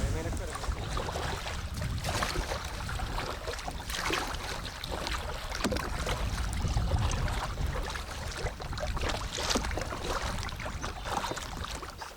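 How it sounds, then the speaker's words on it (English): Canoe paddling on a fall lake in Temagami, Ontario, heard as steady water swishes and strokes under wind and brushing noise, with people talking throughout. "So, all right, time to get paddling."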